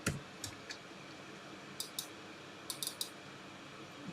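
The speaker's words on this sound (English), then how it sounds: "Okay, you can keep on typing whatever you want to type" Scattered computer keyboard keystrokes click close by over a quiet room hiss, coming singly and in small quick bursts of two or three taps rather than a continuous typing stream.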